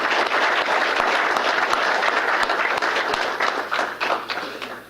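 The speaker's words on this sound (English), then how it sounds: "So let's have a round of applause for those individuals." An audience claps in a sustained, dense round of applause for award recipients at a mayor's employee recognition ceremony, steady for several seconds before thinning out and fading at the end.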